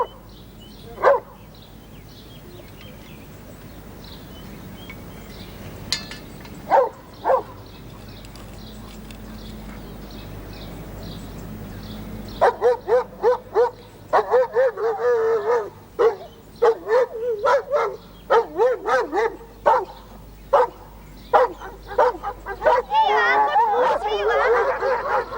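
Several dogs bark in sharp bursts with whimpers and yips between, sparse at first and then in a rapid, loud volley near a garden at breakfast time, with a person talking under them.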